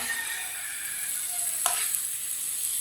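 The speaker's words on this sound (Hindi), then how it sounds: "खीरों को भी अच्छी तरह मिक्स करके 1 मिनट के लिए पका लेना है" Sliced cucumbers being stirred and cooked in a pan for a salad, a soft steady sizzle with a brief scrape of the spoon midway, fairly quiet and without talk.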